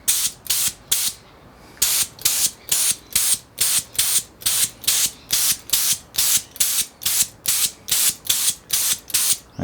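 Spray gun laying candy paint onto a motorcycle fairing, a close, loud hiss in steady rhythmic bursts of about half a second each, pausing briefly near the start, with no talking.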